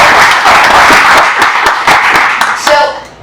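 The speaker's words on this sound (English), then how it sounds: "I'd love to give them a round of applause for all the work that they do" Audience applause fills a conference hall during a tech talk, a dense, steady patter of many hands clapping close and loud for about three seconds before thinning and tapering off at the end.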